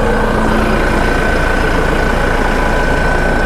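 A John Deere 5125E series tractor engine idles steadily, heard close to the exhaust at an agricultural fair, a loud continuous diesel rumble with a faint steady whine above it and no talk.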